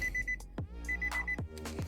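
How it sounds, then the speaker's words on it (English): Repeated short electronic beeps in quick bursts, a high chiming alert tone sounding at intervals over a low rumble: a car's door-open warning set off by a missing center console. "I guess it's beeping because I guess I don't have no center console"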